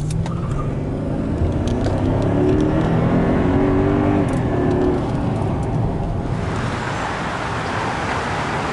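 A brand new car drives along a street, its engine revving steadily with a continuous loud rumble and road noise, the pitch rising and shifting toward the end, no talk over it.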